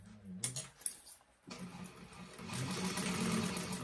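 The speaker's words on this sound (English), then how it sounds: "we're going to sew along the top with a 1/4 inch seam allowance" After a few light clicks and taps, a sewing machine starts up and runs steadily along the top edge of a fabric bag, a close continuous hum that builds slightly in loudness.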